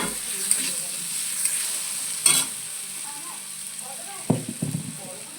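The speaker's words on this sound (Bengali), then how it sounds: "সয়াবিন আলুর তরকারিটা তুলে দিয়েছি কড়াইতে" A steady sizzle of soybean and potato curry frying in a wok, broken by a few scraping stirs; no talking.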